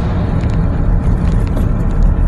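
Heavy, jammed road traffic on a southbound route, heard as a loud, continuous low engine rumble and road noise with no clear gaps and no talking.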